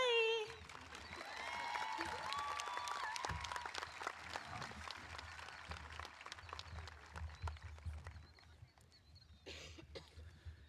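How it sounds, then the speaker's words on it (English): A 2025 West Brunswick High School graduation audience applauds the valedictorian: a dense, steady crowd clapping that fills the room, with scattered coughs and voices, then thins and tapers off toward the end. "one more round of applause for our valedictorian, Ruth Jeffries McKenzie"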